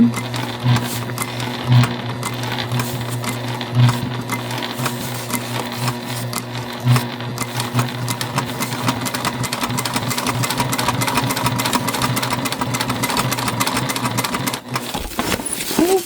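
A Juki TL2 sewing machine runs steadily while stitching the side seam of a drawstring backpack, a loud, continuous mechanical hum with a fast needle rhythm and a few faint clicks, ending in a brief stop.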